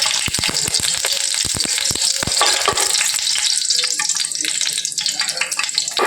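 Whole cinnamon pieces, cloves and cardamom pods drop into hot oil for a Palakkad Rawther-style biryani, giving a loud, steady close sizzle with a burst of sharp crackles and pops early on that settles into continuous frying hiss.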